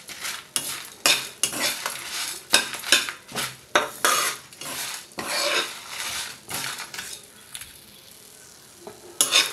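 Ingredients for a pumpkin chutney fry in a pan on low to medium heat, heard as repeated rhythmic scraping and clattering bursts of a spoon against the pan over a soft sizzle, pausing briefly before a final stir.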